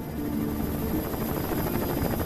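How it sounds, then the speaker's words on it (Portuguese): Rescue helicopters fly overhead with a steady, throbbing rotor thrum and engine drone, moderately loud and unbroken throughout. "Demora 3 horas para os helicópteros de resgate chegarem."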